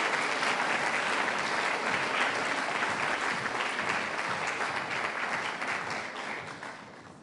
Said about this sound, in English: If we could show how impressed we are with another round of applause.